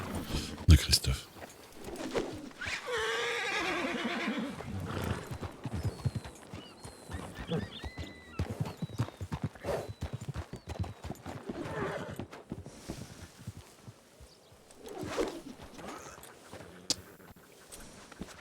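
Hooves clip-clop in an uneven rhythm while a horse whinnies, with people talking over it and a few birds faint in the background.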